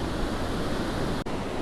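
Ocean waves roll in at Bodega Head beach as a steady, broad wash of surf mixed with wind rush on the microphone, loud and constant with no voices.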